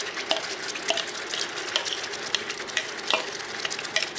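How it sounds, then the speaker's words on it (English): Tomatoes sizzle and crackle steadily in a hot skillet, a dense close frying hiss with small pops and occasional stirring clicks throughout. "Now we're going to take our tomatoes, put in our skillet,"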